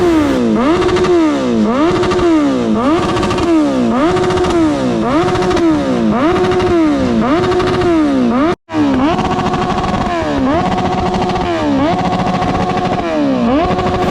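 A motorcycle engine is revved hard again and again at a college auto show, the throttle blipped in quick rhythmic surges, loud and close, with a momentary cutout midway and faint crowd voices underneath.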